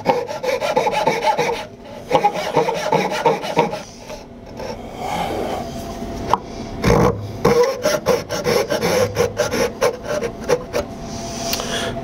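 A hand saw cuts a dovetail joint in wood with steady, close back-and-forth rasping strokes, a rhythmic rubbing that carries on without speech.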